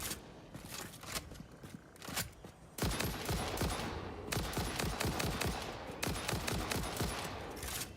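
Gunfire in the Satisfactory video game: rapid, steady bursts of shots crackle loudly and almost without pause, with brief gaps between volleys.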